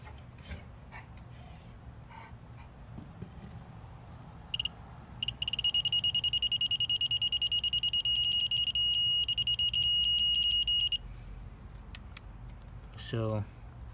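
An AC Delco torque wrench adapter beeps at its torque setting, a steady electronic tone ringing continuously for several seconds amid background noise and faint voices, then stopping abruptly.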